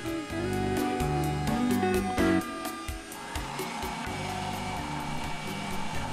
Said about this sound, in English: Slowly pass the headstock over the router bit.